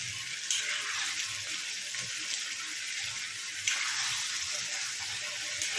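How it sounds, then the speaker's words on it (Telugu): Chicken pieces frying in oil over a medium flame for chicken pickle, giving a steady, dense sizzle with a crackling hiss that runs unbroken throughout at moderate loudness. "ఈ చికెన్ అయితే మీడియం ఫ్లేమ్లో పెట్టుకొని వేయించుకోండి."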